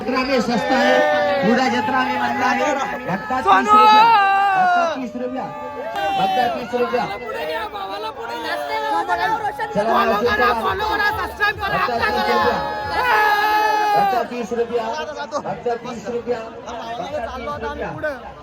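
Dense crowd chatter at the Mhasa yatra fair, a busy, continuous babble of many voices close around, steady and loud throughout.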